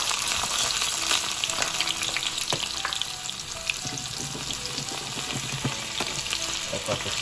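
Garlic frying in hot oil with cumin seeds for a Guyanese beef curry, a steady close sizzle with occasional stirring scrapes and clicks throughout, no talking.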